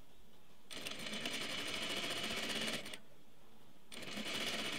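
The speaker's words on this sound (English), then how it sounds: "I put the fabric squares right sides together and sewed them down at about a 1/2 inch" A sewing machine stitches fabric squares right sides together, a steady fast whirring buzz in two bursts separated by a short pause, close and fairly quiet with no talking.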